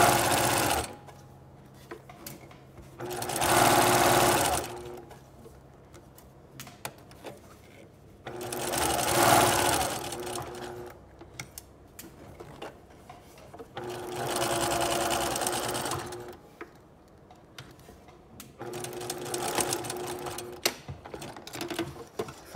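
A sewing machine stitches a princess line bodice seam in four loud, close bursts of rapid mechanical whirring, separated by quiet pauses.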